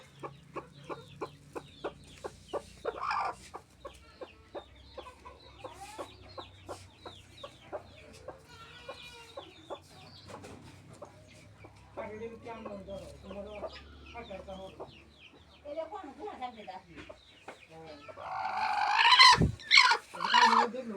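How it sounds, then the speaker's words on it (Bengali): Desi hen settling down to lay eggs, giving repeated soft, low clucks in an uneven rhythm at close range, with a louder burst of squawking near the end. "এই মুরগিটি আবার ডিম পাড়তে বসছে, আরও ডিম পাড়তে পারে"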